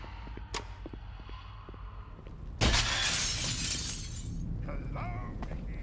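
Glass shatters loudly in the Manhunt 2 video game, a sudden bright crash that follows a single sharp clink and lingers a few seconds over steady low rumbling game ambience.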